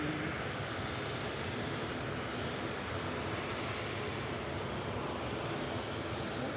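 An EasyJet airliner taxis into line-up position for a departure to Paris Charles de Gaulle at Manchester Airport, its engines giving a steady, broad, close roar that holds evenly throughout with no talk over it.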